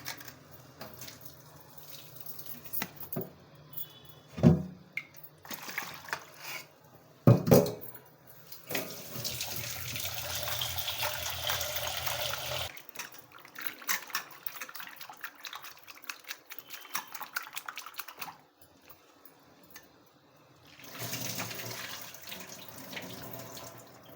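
Raw prawns are swished and washed in water, giving irregular splashing and sloshing bursts with running-water stretches and quieter gaps between them, close by.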